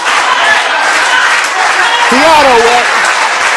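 Crowd at an independent professional wrestling show cheering and applauding loudly throughout, a steady wash of noise with a commentator talking over it and a brief whooping voice rising near the end.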